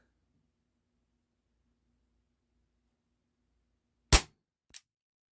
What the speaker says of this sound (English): Very nice, snappy blowback action.